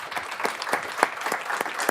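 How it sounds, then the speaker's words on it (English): An audience at a clean energy panel session claps for the guests, a brief steady patter of applause with no voices over it. "I want to give a round of applause to our guests for joining us"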